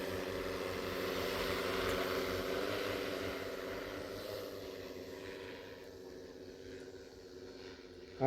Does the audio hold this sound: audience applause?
no